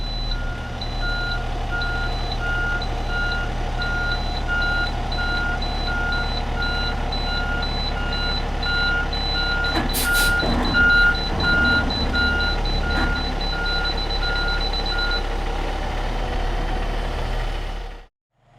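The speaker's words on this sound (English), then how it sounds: "I can hear the audible alerts going off right now." A refuse truck idles with a low engine rumble while a PreView Sentry backup sensor gives steady, evenly spaced beeping alerts as it reverses. Clanks and knocks rise briefly midway, and the beeping then stops before the engine sound cuts out.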